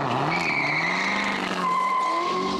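A 2015 Corvette Z06 pushed hard, its tires squealing in long, loud, wavering skids over a steady engine roar, all without any talk.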